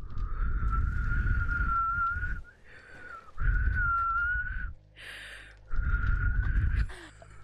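A person whistles a sustained, wavering tune in several phrases separated by short pauses and rustling, close and fairly loud.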